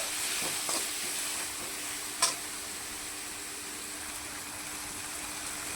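Vegetables with green chili paste frying in a pan for Chinese-style veg noodles give a soft, steady sizzle and hiss, with a few light utensil clicks and one sharper clatter.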